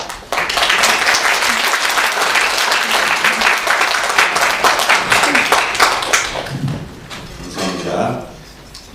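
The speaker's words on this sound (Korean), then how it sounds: "들어가시고 나오실 때 박수를 한번 해주시기" A church congregation claps in applause during a Sunday worship service, a dense, sustained patter of many hands lasting several seconds before fading out, with a voice speaking at the end.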